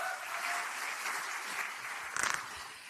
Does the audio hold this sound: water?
no